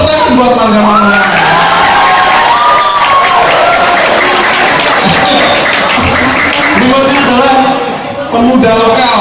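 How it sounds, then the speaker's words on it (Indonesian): A school audience cheering and clapping for the Manulang clan, loud and close, with shouts and whoops over sustained applause for several seconds and a short dip near the end. "tepuk tangan buat Marga Manulang"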